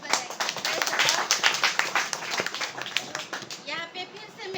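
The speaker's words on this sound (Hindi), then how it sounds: "इस वचन के लिए जोर से ताली बजाएंगे।" A village church congregation in Assam claps loudly together in a fast, dense burst, with voices heard over it near the end.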